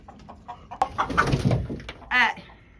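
A laying hen clucks in short, throaty bursts close by, ending with a louder drawn-out squawk.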